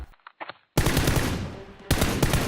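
Toy Nerf blasters fire in a staged indoor fight between masked robbers and a SWAT-style team, a few soft pops at first, then sustained loud rapid bursts of rattling shots that pause briefly and resume, close by with no talking.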